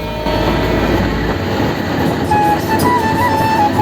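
Passenger train rolls along the rails approaching the Meghna river bridge, a loud continuous rumble with rhythmic wheel clatter and a brief metallic squeal, heard close from inside or at the window of a carriage.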